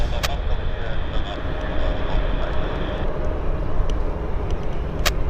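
An airliner climbs out after takeoff at Vancouver Airport YVR, its steady broad engine roar holding throughout at moderate distance with a couple of short sharp clicks over the top.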